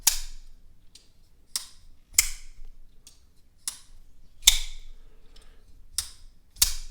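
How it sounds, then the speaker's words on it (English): Sharp, crisp metallic clicks from a Kizer Sparrow folding knife's blade opening repeat one at a time at irregular intervals, each snapping open cleanly against near silence. "it is very satisfying deployment sounds"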